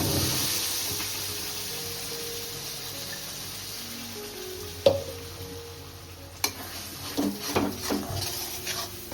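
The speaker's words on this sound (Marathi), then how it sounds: "चला आता आपण मिक्सरला पल्प आहे ना तो ॲड करू मस्त" Fruit pulp of jackfruit, jamun and mango, made in a mixer, goes into hot ghee in a kadhai on a gas stove. A soft sizzling hiss slowly fades, then a few spoon scrapes and knocks against the pan follow.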